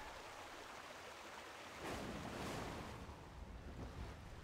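A waterfall in the World of Warcraft video game gives a steady, dense rushing roar that swells slightly midway and carries on unbroken, with no voices.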